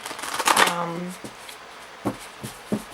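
Tarot cards being shuffled by hand at close range, a riffling burst followed by a few soft, separate card taps, with a voice briefly audible over the first part.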